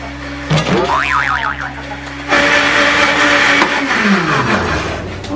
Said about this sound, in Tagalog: Ito na, i-blender na natin.